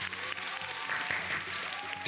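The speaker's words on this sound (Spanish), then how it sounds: "Muchas gracias por los aplausos." Applause from a live stream audience, steady dense clapping that holds at an even level for a couple of seconds with a faint crowd murmur underneath.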